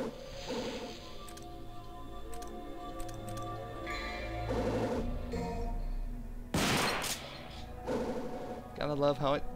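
Gunfire from a newly acquired weapon in the Devil May Cry video game: a few sharp, loud bursts spread across several seconds over a bed of game music and ambient effects.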